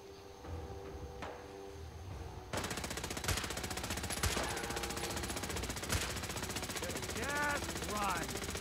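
Gunfire in Fallout 4 during a firefight alongside an ally: a dense stream of rapid shots runs steadily under the game's ambience, with a few louder cracks standing out, while a person talks over it.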